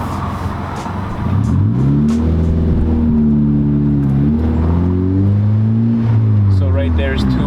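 Engine of a six-speed manual Mazda 3 revs steadily as the car pulls away, a loud sustained hum with rising and falling pitch sweeps, held over several seconds.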